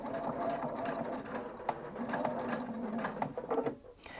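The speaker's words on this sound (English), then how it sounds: "I'm just going to start by stitching over that original stitching line" A sewing machine stitches over an existing seam line, a close, rapid mechanical whir with clicking needle strokes that briefly pause and restart, with no talking.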